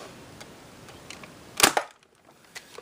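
A foam dart blaster fires Ray Squad or Nerf AccuStrike darts, giving one sharp, close snap that ends quickly, with a few faint clicks before and after.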